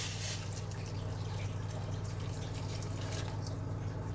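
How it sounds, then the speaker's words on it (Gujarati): Hot water poured from a cup onto soaked dates and tamarind in a bowl, a steady close trickling and splashing stream running continuously with a low background hum, no voices. "હવે એમાં 2 કપ જેટલું ગરમ પાણી ઉમેરીએ"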